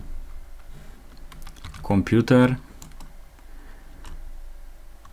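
A quick burst of keyboard typing, clattering keys for about a second, close by, with faint background noise before and after.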